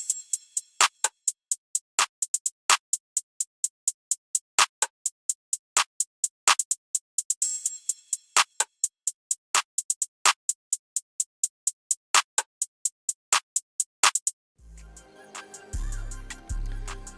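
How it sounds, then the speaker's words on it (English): An open hi-hat sample in an FL Studio beat repeats in a crisp, steady rhythmic pattern of bright metallic hits, loud and dry, before a deep bass tone comes in at the end. "The open hat, I really like. It acts as sort of like a high-end sort of stab at the beginning of the drums"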